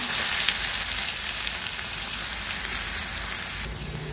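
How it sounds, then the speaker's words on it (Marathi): Finely chopped onion fries in a pan for dhaba-style anda bhurji curry, giving a steady, close, loud sizzle with a bright hiss that holds evenly before easing slightly near the end, with no talking. "आता याच्यामध्ये कांदा टाकून घ्यायचा आहे बारीक चिरलेला"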